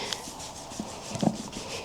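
A horse walks with a steady clip-clop of hooves, a few soft, fairly close knocks spread through a short stretch over low background noise.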